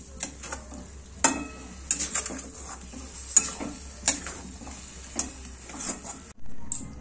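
Patishapta batter being mixed with milk by hand in a bowl, with repeated soft wet stirring sloshes and occasional spoon clinks against the vessel.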